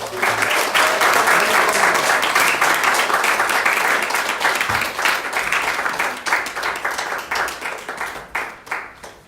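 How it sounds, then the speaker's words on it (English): A seminar audience on forgiveness breaks into a sustained round of applause, many hands clapping densely and loudly at first, then thinning into scattered, uneven claps as it fades toward the end. "I think that deserves another round of applause."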